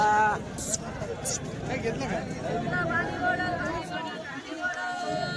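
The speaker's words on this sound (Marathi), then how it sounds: "गर्दी एवढी चालायला जागा नाही बघा तरी ही गर्दी खूप गर्दी आहे" Dense crowd chatter and hubbub at a busy bull market in Chalisgaon, a steady babble of many voices close around, with occasional sharp bright clatters.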